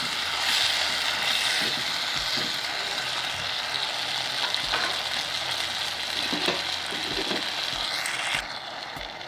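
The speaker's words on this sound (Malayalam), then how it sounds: "വെണ്ടയ്ക്കൊക്കെ നല്ലോണം വഴന്ന് വന്നിട്ടുണ്ട്" Okra and green chillies sauté in a hot pan for a Kerala-style curry, giving a steady, close broadband sizzle with faint stirring scrapes throughout and no talking.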